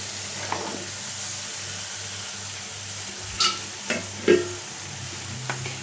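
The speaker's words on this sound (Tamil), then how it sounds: "இது பாருங்க, கேரட்டு, பீன்ஸு, முருங்கைக்காய் எல்லா காயும் போட்டு நம்ம வதக்குவோம்." Carrot, beans and drumstick pieces sauté in a pan for sambar, a steady low sizzle broken by a few sharp clinks and scrapes of a spoon against the pan, close by with no talk.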